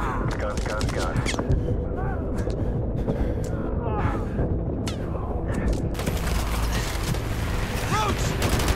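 Rapid aircraft cannon bursts during a gun run in Modern Warfare 2 Remastered, loud, dense battlefield clatter and booms under radio chatter and voices throughout.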